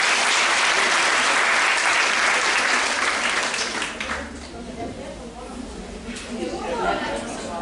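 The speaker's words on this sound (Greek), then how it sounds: "να τους χειροκροτήσουμε για αυτούς λοιπόν" A roomful of people at a parents' academy event applauds loudly and densely, the clapping easing after about four seconds into lighter, scattered claps under murmuring voices.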